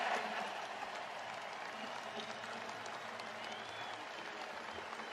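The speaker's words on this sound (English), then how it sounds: "The crowd erupted, chanting along with the players and coaches." A large crowd at an Oakland team farewell applauds and cheers in a steady, distant wash of clapping and voices that holds level throughout before cutting off sharply.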